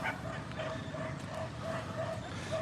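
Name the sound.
dogs barking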